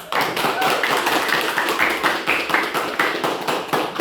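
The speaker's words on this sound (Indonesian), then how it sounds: "Kasih aplaus dulu" Classroom applause for a student group sitting down after presenting, a dense, steady patter of many hands clapping together for about four seconds, fairly loud and close throughout.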